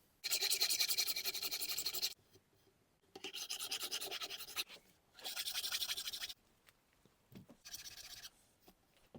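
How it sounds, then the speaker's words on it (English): A file rasps over dried sawdust and Titebond filler on a Maestro by Gibson guitar, in four separate bursts of scraping strokes with short quiet pauses between them. "now my plan is to file it down so it will be all smooth"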